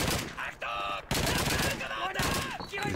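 Rapid gunfire in the World War II shooter Call of Duty 2 at Stalingrad, dense close bursts chattering almost continuously with one short break and what sounds like a voice mixed in.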